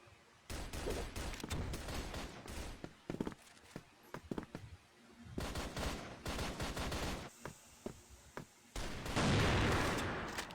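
Gunfire in the video game CrossFire during a tournament match: sharp bursts of shots and rapid volleys in irregular clusters, with footsteps between them and a commentator talking over the action.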